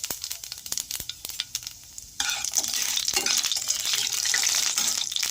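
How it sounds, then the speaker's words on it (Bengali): Panch phoron spice mix hits hot oil in a wok, a quiet scrape and tap giving way to a loud, steady sizzle that fills the second half, with no voices. "পাঁচফোড়নটা ভাজা ভাজা হয়ে গেলে"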